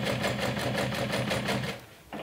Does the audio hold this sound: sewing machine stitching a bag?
yes